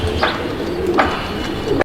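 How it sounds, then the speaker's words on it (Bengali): A high flyer pigeon coos nearby in several soft, throaty bursts over a steady background murmur. "কবুতর দেখেন আপনারা, ভালো একটা কবুতর, হাই ফ্লায়ার কবুতর।"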